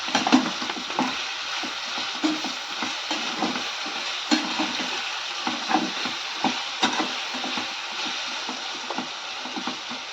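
Chicken frying in a pan with masala paste mixed in, a steady close sizzle with regular soft scraping and stirring knocks, no talk.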